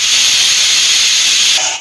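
A loud, steady, high-pitched hiss of a pressure cooker whistle blows continuously, then cuts off abruptly near the end, while cooking dal.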